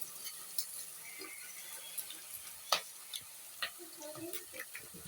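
Onions cooking with turmeric in a pan give a soft, low sizzle broken by occasional scraping stirs and light clinks of a utensil. The sound stays fairly quiet and steady, with no clear talk.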